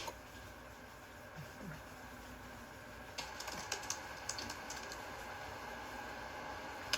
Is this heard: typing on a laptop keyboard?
yes